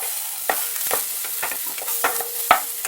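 Bacon and onion stir-frying in a pan, a soft sizzle broken by several brisk spatula scrapes and taps against the pan.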